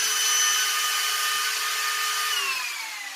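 G-Force fans on a budget build spin at high speed with a loud, steady whine, the pitch then sliding down as they are switched off and wind down.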